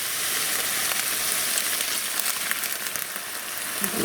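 Ground meat mixed with taco seasoning sizzles steadily in a pan, a dense, even crackle of frying that holds at a constant loudness throughout with no talking.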